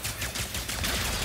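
Rapid weapon fire in the video game Ratchet & Clank: Rift Apart, a dense burst of repeated shots over a loud continuous rumble, with no talk.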